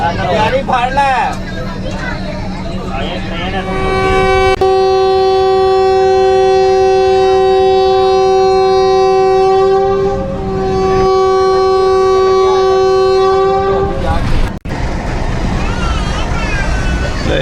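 18 Down Millat Express pulls out of Lala Musa Junction with a long, loud, steady horn blast lasting several seconds, rising out of the rumble and clatter of the departing train and station noise.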